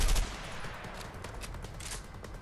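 Shotgun fire in the action game A Way Out, a short burst of gunfire with a heavy opening blast followed by crackling shot noise that carries on steadily.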